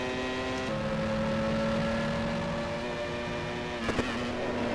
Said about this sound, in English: It's one of the Tyrrells flying past.